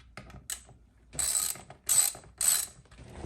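Ratchet clicking while T40 bolts are backed out of a racing seat: a few faint clicks, then three louder bursts of rapid close-up ratcheting, with no talking.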